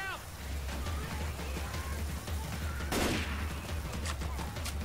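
Gunfire rings out in the Left 4 Dead zombie shooter, a quick burst of shots in the middle over a low ambient rumble, with faint chatter and game noise around it.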